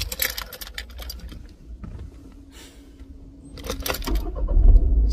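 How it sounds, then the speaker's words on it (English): A car engine is started near a handheld diagnostic scan tool. Light clatter and handling noises come first, then a low rumble builds and swells louder in the final second as the engine cranks and catches. "So if we can start the car."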